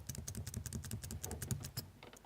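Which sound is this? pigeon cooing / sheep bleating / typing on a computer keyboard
typing on a computer keyboard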